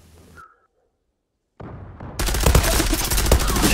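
Gunfire in the online shooter Zula: after a short silence, a dense, loud stream of rapid automatic shots rattles on continuously, with no voices.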